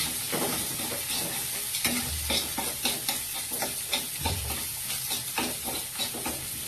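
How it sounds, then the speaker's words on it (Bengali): Crumbled egg stir-fried with masala in a pan, a steady hiss of frying under repeated scraping and clinking strokes of a spatula stirring through the mixture, close and continuous with no talking. "মশলাটার সঙ্গে এই ডিমটাকে এবার নেড়ে চেড়ে ভেজে নিতে হবে"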